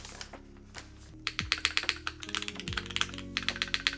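Typing on a Cloudline v2 mechanical keyboard fitted with 50A O-rings, a fast run of close, crisp keystrokes that grows denser and louder after a sparse start.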